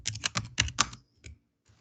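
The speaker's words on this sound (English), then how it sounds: "now I will type" Keys clatter on a computer keyboard in a quick burst of about six close presses, then a lone keystroke and a faint last tap after a short silence.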